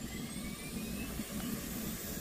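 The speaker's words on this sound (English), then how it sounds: "Next I'm going to turn my APU on." The F/A-18C Hornet's auxiliary power unit spinning up in the DCS World flight simulator, a steady whirring jet-turbine drone with a faint rising whine, heard alone without talk.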